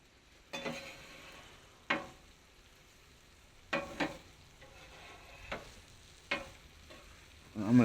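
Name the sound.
stirring breakfast scramble frying on a Weber griddle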